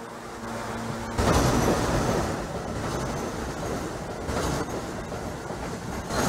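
An NYC subway A Express train on a Trainz Simulator 2012 route rumbles along the tracks with a dense, continuous roar and a few louder surges, no voices over it.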